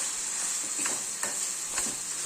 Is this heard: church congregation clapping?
no